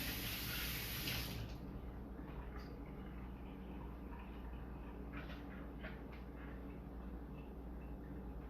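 Ingredients for a veggie chili rinsed under a running kitchen tap, a loud steady gush of water that drops to a softer, continuous trickle after the first second or so.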